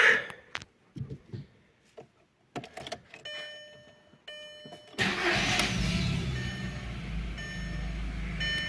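A Skoda Octavia A4, just fitted with a new oxygen sensor, is started: scattered clicks and a brief beep come first, then the engine catches with a sharp burst and settles into a steady close idle.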